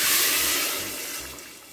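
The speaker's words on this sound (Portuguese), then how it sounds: "Agora vira água." Boiling water, about a litre, poured into a pressure cooker, a steady bright pouring splash that runs unbroken and fades slightly toward the end.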